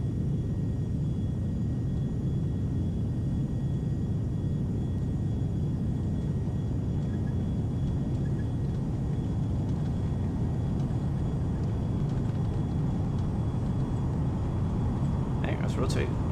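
Aircraft engine at takeoff power in the X-Plane 11 flight simulator, a steady loud broadband rumble and roar held constant throughout with faint tonal whine on top.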